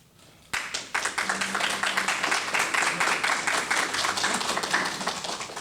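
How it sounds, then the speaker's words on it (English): Audience applause at a Disability Pride Month proclamation ceremony, a sudden burst of many hands clapping that rises quickly and holds steady, loud and close, for several seconds with no speech over it. "You definitely might want to hold that applause till after."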